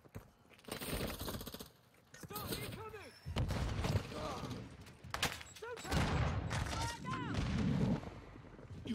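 Sustained bursts of gunfire and heavy shotgun blasts from a Call of Duty: Modern Warfare II Hardpoint match, dense and loud with several rapid volleys, and someone talking over the shooting.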